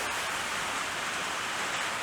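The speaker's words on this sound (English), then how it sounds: "oh, it's starting to rain" Steady rain patters down outside a workshop where a BSA B44 trials motorcycle frame is being worked on, a dense, even hiss of drops on surfaces with no voices over it.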